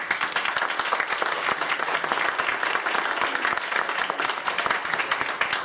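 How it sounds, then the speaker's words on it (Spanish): An audience applauds young high school students at a philosophy olympiad, a steady dense wash of many hands clapping, loud and sustained throughout. "pido para ellos un aplauso"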